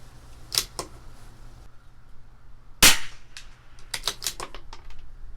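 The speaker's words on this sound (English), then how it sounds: "5 more shots. I'll shoot off an inch above the red dot, dead center" Shots from a CZ 457 LRP rimfire rifle with an IBI barrel at a 100-yard range during an SK Long Range Match session, sharp close cracks spaced irregularly, the loudest standing out, with fainter clicks and metallic handling between.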